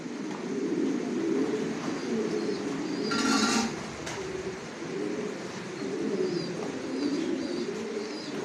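Racing pigeons coo repeatedly in a loft, a steady low murmur of overlapping calls with a brief burst of noise partway through.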